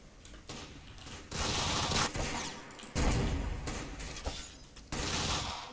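Rocket launcher blasts in Roblox Arsenal, a sequence of sharp, loud explosive bursts with rumbling tails, several heavy hits spaced about a second apart, close and alone.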